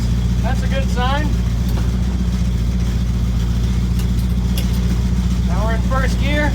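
A Chevy Nova with a rebuilt TH400 transmission and a transbrake rolls in reverse, its engine holding a steady, low rumbling drone throughout while someone talks over it near the start and end.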